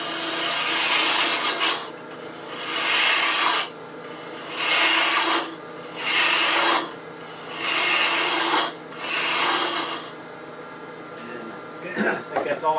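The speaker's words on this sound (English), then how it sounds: "I think that's all I want to use the bowl gouge for." A bowl gouge cuts a wooden twig pot spinning on a lathe, giving six evenly spaced, close, loud rasping cutting passes with short pauses between them, followed by a few quieter scrapes at the end.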